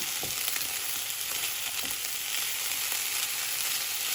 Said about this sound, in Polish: Wszystko jeszcze raz wymieszam.